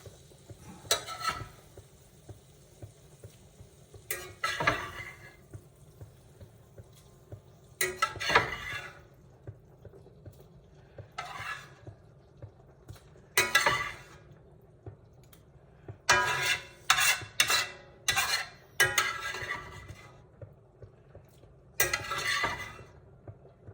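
Italian sausage cooks in a soup pot with milk beginning to simmer, under a low steady bubbling hiss broken by scattered spoon scrapes and clanks against the pot, with a cluster of quick stirring strokes near the end; no voices.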